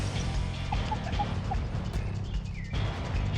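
A hen clucks and calls close by in a farmyard, with scraping and rustling handling noises around it and no speech.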